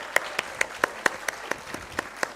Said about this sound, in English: Clap more, others,